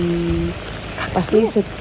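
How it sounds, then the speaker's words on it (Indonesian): Heavy rain pours down on a street during an early-morning commute, a steady broadband hiss that runs throughout, with voices talking over it. "Lihat nih, hujannya deras ya teman-teman."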